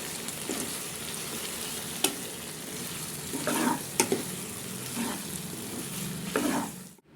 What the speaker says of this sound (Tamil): சாஸ் போட்டு நல்லா கலக்கிடுங்க